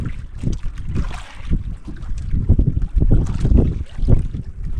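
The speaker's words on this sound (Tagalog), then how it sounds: "Grabe, naglakas din ang hangin na." Strong wind buffets a small fishing boat out at sea, gusting roughly across the microphone in uneven surges with water and hull noise underneath, loud and close throughout.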